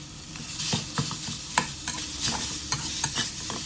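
Minced pork stir-fries with lemongrass in a hot pan, a continuous sizzle broken by repeated sharp scraping strokes of the spatula at an irregular, fairly quick rhythm.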